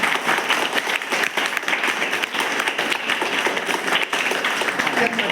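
An audience claps in dense, steady applause that fills the room throughout, loud and sustained, with a few voices mixed in.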